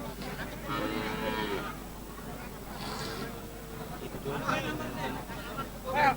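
Cattle low and moo at a busy rural cattle market in Bangladesh, with people talking throughout and steady crowd noise in the background.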